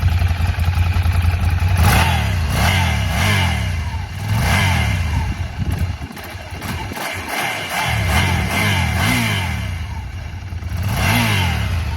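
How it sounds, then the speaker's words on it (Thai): A Ducati Scrambler 795 motorcycle engine runs close by, with repeated throttle blips rising and falling in pitch over a steady idle, loud throughout with no talk. "ขอฟังเสียงเครื่องฮะ เครื่องฟิตสตาร์ติดง่าย"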